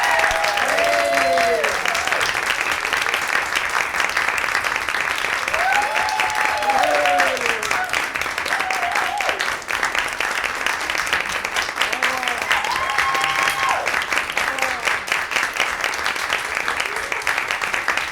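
A theatre audience applauds after an Anna Russell comedy performance, with dense, sustained clapping that stays loud throughout while a voice speaks over it.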